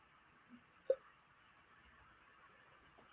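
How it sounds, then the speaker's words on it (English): An elderly man hiccups once, a short sharp gulping catch preceded by a faint softer sound, against a quiet background with no speech. "I have the hiccups"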